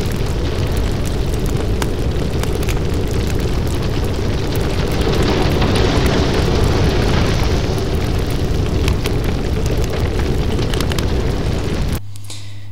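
A steady, roaring rumble of fire plays behind an 8-frame animated fire scene in Smile Game Builder. It holds loud and unbroken for about twelve seconds, then drops to a low hum.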